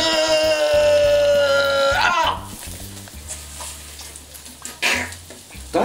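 A burger bun pressed down to toast in a hot frying pan, a steady sizzle under a voice and a loud tonal hum, with the frying continuing softer once the hum stops and occasional clatter.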